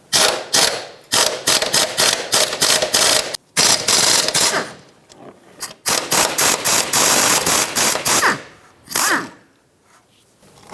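A ratchet spins off two 13mm shock mount nuts on a 2013-2020 Nissan Pathfinder, loud rapid clicking bursts close up, stopping and restarting repeatedly, with short pauses between runs.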